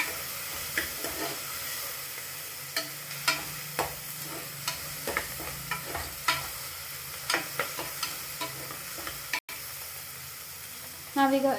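Methi pulao ingredients sizzle softly in a hot pan, a steady quiet fry punctuated by repeated scraping taps of a spoon stirring, with a brief louder clatter at the end.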